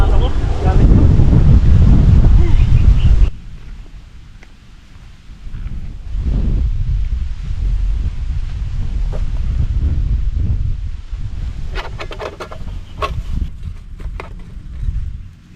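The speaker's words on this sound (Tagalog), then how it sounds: "Lakas ng hangin, grabe." Strong wind at a wilderness campsite in Cavite roars and buffets the microphone in loud low rumbling gusts. It eases briefly after a few seconds, then surges again and stays heavy to the end.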